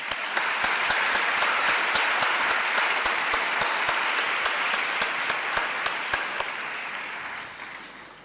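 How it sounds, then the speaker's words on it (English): Sustained applause from a large graduation ceremony crowd, steady and dense with individual claps standing out, slowly fading toward the end. "giving them a huge round of applause"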